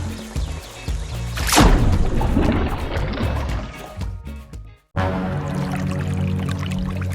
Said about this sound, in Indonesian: semut terjatuh ke sungai